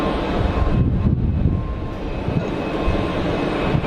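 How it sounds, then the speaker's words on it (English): A landing airliner with spoilers and thrust reversers deployed gives a loud, sustained rumbling roar with a steady tone, close and continuous, with no talk. "Spoilers out, reverser buckets out."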